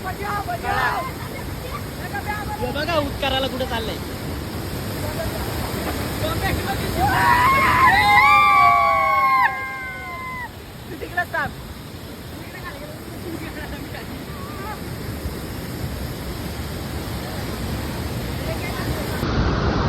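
A powerful waterfall pours with a steady, heavy rush close by while several people talk and call out over the roar.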